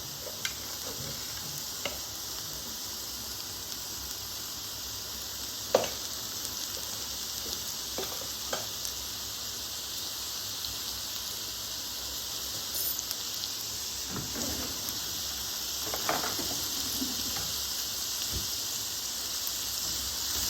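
Chana roast with yam sizzles and fries in a big kadai, a soft continuous crackle broken by scattered scraping and clinking stirs, close and fairly quiet with no talking.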